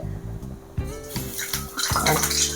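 Banana bajji batter hits hot oil and sizzles in a steady, close hiss that grows louder and fuller toward the end, with a low hum underneath.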